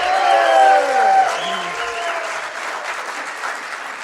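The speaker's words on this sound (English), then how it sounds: "So let's give a huge cheer to the start of our coalition meeting to say hello." A crowd at the start of a coalition meeting bursts into a loud cheer, with whoops and shouting voices over applause that peaks early and then slowly tapers off.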